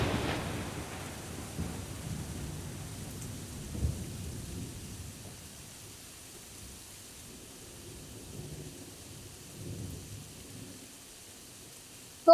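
Rain falling with soft rumbles of thunder, a steady hiss of rainfall beneath low distant rolls that swell faintly every few seconds, ending in a sudden sharp sound.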